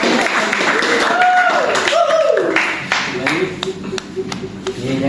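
Scattered clapping sounds after a Quran recitation lesson, with sharp claps breaking through prominent voices talking over them.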